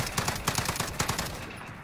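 Rapid burst gunfire from a Modern Warfare video game, a dense, loud, evenly paced string of shots that runs almost the whole short moment and cuts off at the end.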